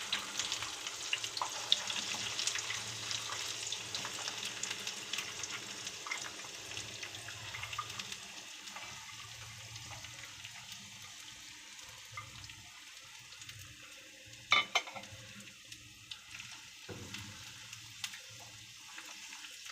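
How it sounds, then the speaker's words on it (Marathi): Garlic frying in hot oil gives a soft, steady sizzle and crackle that fades somewhat over time, with a few sharper pops and clinks midway, fairly quiet and with no voices. "आता लसूण ह्याच्यात फ्राय करून घेऊया."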